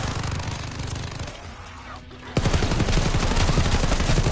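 A light machine gun fires in a video game with rapid, dense bursts, steady at first, easing briefly, then a loud close stream of fire for the final seconds with no talk.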